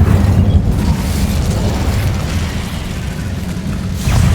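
The Incendio fire spell cast in the game Hogwarts Legacy: a loud, sustained roaring whoosh of flame with a deep rumble runs throughout, ending in a sharper burst near the finish.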